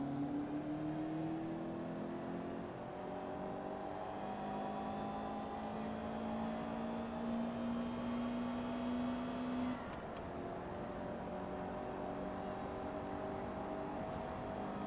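A Mercedes Sprinter van races in Forza Motorsport 2, its engine droning steadily and rising in pitch through the gears, with a brief shift near the end, continuous and evenly loud with no speech.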